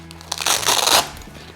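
Buckles on the MOLLE pouch of an HRT plate carrier being unfastened, giving a loud crinkling, crunching rustle of fabric and plastic that swells for about half a second, close to the mic.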